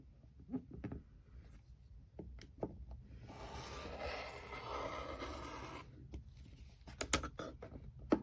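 Fabric pieces for a quilt block being cut with a ruler, heard as a few faint scrapes and light taps, then a steadier stretch of soft cutting noise in the middle.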